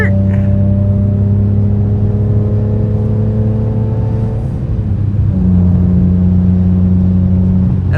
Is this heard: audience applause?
no